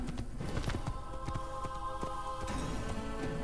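Horse hooves clip-clop in a rapid, steady rhythm as a horse is ridden into a town in Assassin's Creed, with a continuous game soundscape and some tonal music layered over it.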